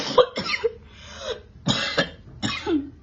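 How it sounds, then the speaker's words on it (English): A woman coughing up blood lets out about five harsh, close coughs in uneven bursts, with short quiet gaps between them. "You are even coughing out maggots with blood at the same time."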